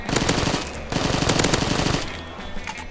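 AK-47 gunfire from Black Ops 3 Zombies, on a SpongeBob-themed map. Loud, dense automatic bursts rattle almost nonstop with a brief break early on, then the firing thins out and fades.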